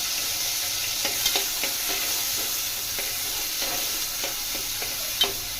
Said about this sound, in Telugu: పోపు దినుసులు బాగా కాలిన తర్వాత ఆనియన్ యాడ్ చేసుకుందాం.